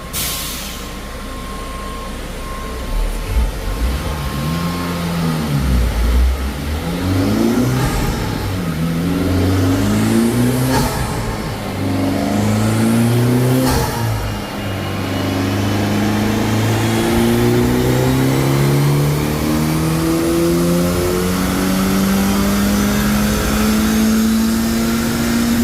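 A Honda Civic Type R FL5 on a dyno, tuned with Hondata and TSP Stage 1 mods, revs loudly through several rising full-throttle pulls, its engine note climbing steadily and clearly up close.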